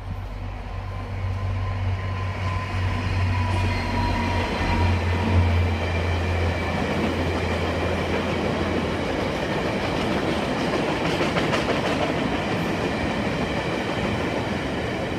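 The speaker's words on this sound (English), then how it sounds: "we have a VIA train coming" A VIA Rail passenger train led by locomotive 6401 passes through Danforth GO station, a loud steady rumble with low engine drone at first, then rattling wheels and clatter of cars going by close, continuous throughout.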